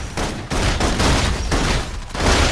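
Suppressing gunfire in the Love and Deepspace video game, loud and sustained, pulsing in rapid bursts with no break.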